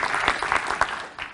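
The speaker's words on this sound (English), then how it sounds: "if your answer is yes, I'd like you to clap your hands" An audience claps together in a short burst of applause, dense and steady for about a second before tapering off, with a few isolated claps at the end.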